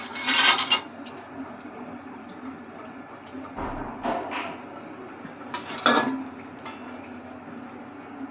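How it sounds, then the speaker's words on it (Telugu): A pot of jaggery water for gulab jamun syrup is set down on a stove with a few sharp metallic clanks and clinks, the rest quiet, with no talking. "పొయ్యి ముట్టించి దాని మీద బెల్లం నీళ్ళు పోసిన గిన్నె పెట్టుకొని"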